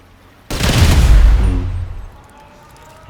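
A single sniper rifle shot in GTA 5 lands as a sudden loud blast that booms and rolls away over about a second and a half, then fades to near quiet.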